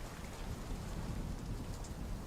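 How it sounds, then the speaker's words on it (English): Steady rain falls during a storm beside a swollen river, a continuous dense hiss with low rumbling underneath, no voices. "We'll have to wait for the rain to stop."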